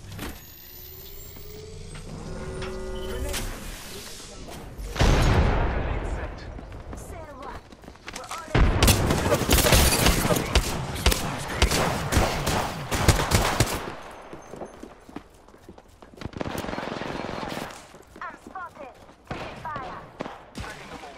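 Bursts of automatic gunfire from the Apex Legends game, loud rapid volleys with a long sustained stretch in the middle, plus engine-like rumble and in-game voice callouts between shots.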